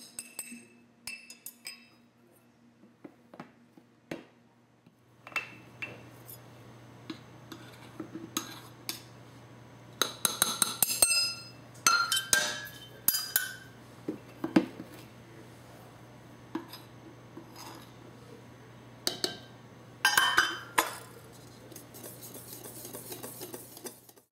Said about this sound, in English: Then you whisk it up in your bowl to combine.